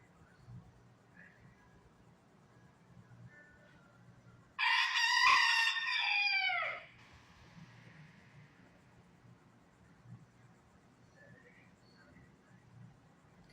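A lost rooster inside a laundromat lets out one loud, close crow lasting about two seconds, set amid quiet machine hum and a faint background voice.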